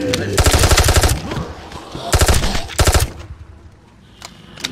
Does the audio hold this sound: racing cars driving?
no